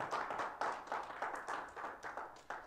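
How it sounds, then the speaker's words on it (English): A church congregation at a Christmas service gives a clap offering, with rhythmic group clapping in regular beats of about four per second, fairly faint and somewhat distant, with no talking over it. "Give the Lord a clap offering."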